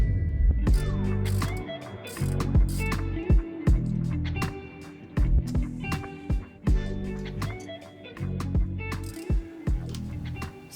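Rusted steering bolts on a 31-year-old salvage sailboat being undone with tools, producing loud, close clunks, creaks and metallic clicks in irregular bursts with brief pauses.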